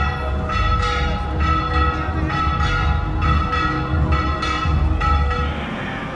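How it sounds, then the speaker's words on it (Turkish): Church bells ringing repeatedly in an open town square in San Cristóbal, Mexico, resonant tolls ringing out over a low background hum. "Kilise çanları çalıyor."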